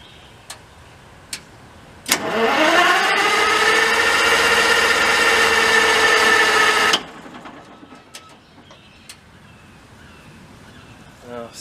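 A 60 kW Kurtz and Root military generator, left abandoned and with a suspected sticking injector rack, cranks loudly for about five seconds with a steady whining starter drone, then stops without catching, leaving faint clicks.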